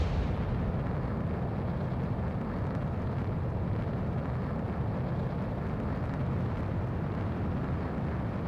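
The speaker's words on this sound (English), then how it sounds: "Missile launched." Missile launch in the Ace Combat 7 flight game, a steady low rumbling roar that holds evenly throughout, loud and continuous.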